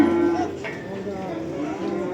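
Cattle low loudly and close by at the Barda calf market in Azerbaijan, one long drawn-out moo filling the whole moment against a faint background murmur.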